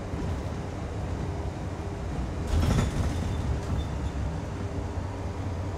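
A 2017 Collins Chevy school bus on the ride home from school, giving a steady low engine and road rumble from inside the cabin, with a brief rattling swell midway.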